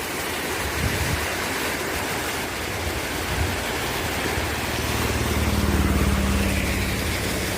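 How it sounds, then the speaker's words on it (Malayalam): Floodwater in a rain-swollen Kerala river after a landslide rushes in a steady, broad roar that swells slightly toward the end, with no voices. "നോക്കിക്കോ, കുത്തി ഒഴുകല വെള്ളം."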